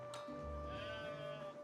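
Sheep in the strategy game Age of Empires IV bleat in a single wavering call, clear and close, over a faint steady game tone.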